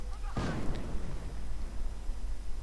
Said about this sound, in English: mortar runs now begin falling amongst the American riflemen and Rangers